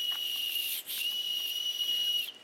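A shrill whistle blown in one long steady blast with a brief break near the start, close and fairly loud, with no voices.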